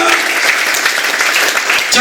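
Applause from a church congregation for the Lord at a Pentecost Sunday service, loud dense clapping sustained for about two seconds, with voices mixed in.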